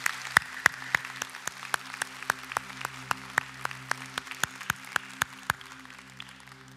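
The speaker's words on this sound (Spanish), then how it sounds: "¿Por qué no le damos un fuerte aplauso a nuestro Padre Celestial por este día?" A church congregation on Father's Day claps together in a steady, even rhythm, many hands striking at once, a clear pulse of sharp claps continuing throughout with no talking.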